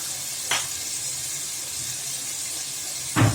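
Soft steady sizzle of garlic and green chillies frying with beef tripe in a pan, with two brief louder bursts of hissing as ingredients are stirred or added.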